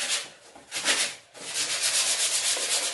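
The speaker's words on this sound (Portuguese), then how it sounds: "E essa lixa aqui. Dá pra lixar." Sandpaper rubbed over a wooden shelf in long, rasping strokes, close and fairly loud, with a brief pause between passes.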